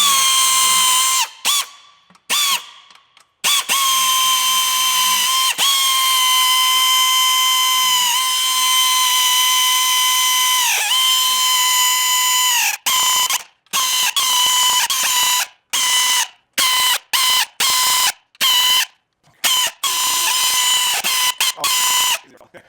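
Bolts on a Buick LeSabre transmission pan being run up with a ratcheting power tool, working from the middle outward; long steady whirring bursts with a ringing tone, broken by rapid short stop-start pulses near the end, close and loud.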